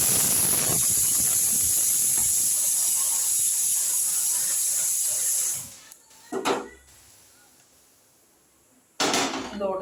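A pressure cooker in a home kitchen, used while making breakfast, gives a long loud whistling hiss of escaping steam that cuts off abruptly, followed by two short sharp bursts of steam release with quiet gaps between.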